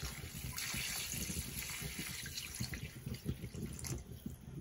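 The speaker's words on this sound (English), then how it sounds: "First, we'll just add the water." Water pours into a paella pan for a first paella with Valencia rice, a close, steady splashing gush that stays continuous and fairly soft throughout, with no talk.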